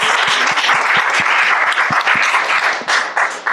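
Lecture audience applauding, a dense steady patter of many hands clapping close and loud for a few seconds, tapering slightly at the end.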